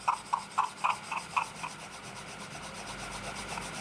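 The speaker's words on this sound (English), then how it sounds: "sand the top," A laser-cut wooden box top is lightly sanded with 220 grit sandpaper, giving close, soft rhythmic rasping strokes that start distinct and blur into continuous rubbing.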